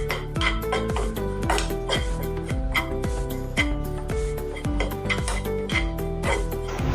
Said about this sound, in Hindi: जो नारियल का बुरादा है इसमें हम डाल देंगे कढ़ाई में। इसको थोड़ा सा भून लेंगे।